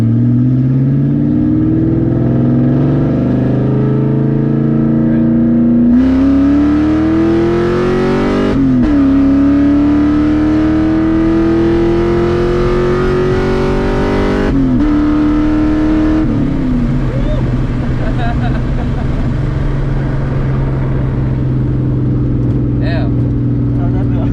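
A tuned Ford Mustang 2V V8 on a 150-shot nitrous setup revs hard through a second gear pull, its engine note climbing loudly in rising sweeps with shifts and a drop-off near the end, close and dominant.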